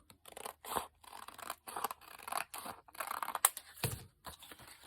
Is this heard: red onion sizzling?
no